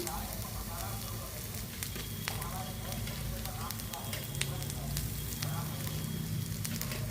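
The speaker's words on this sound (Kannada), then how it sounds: "ಈಗ ಅದಕ್ಕೆ ನಾವು ತೆಂಗಿನ ತುರಿಯನ್ನು ಹಾಕಿಕೊಳ್ಳೋಣ ಬಾಡಿಸ್ಕೊಳ್ಳೋಣ" Grated coconut roasts in a hot pan, giving a continuous dry sizzle and crackle with occasional scraping stirs. The sound is close and fills the whole stretch.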